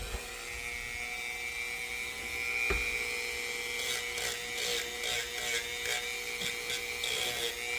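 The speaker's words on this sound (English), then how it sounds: "I'm just gonna go ahead and sand down the edges." Sanding the edges of a plastic roof spoiler for an Infiniti M45/M35, a steady close grinding buzz with brief rhythmic bursts toward the end, heard alone.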